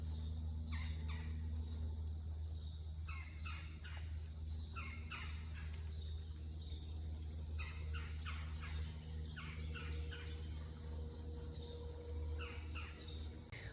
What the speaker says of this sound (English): You hear the bird talking.